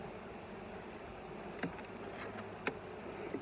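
Steady buzzing of many honeybees at an open hive, a continuous hum with occasional faint clicks and taps.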